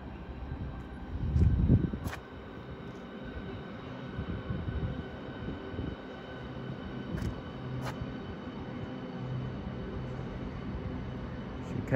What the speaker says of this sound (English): Now departing is the delayed 12:59 Southeastern service to St Pancras International from Ramsgate.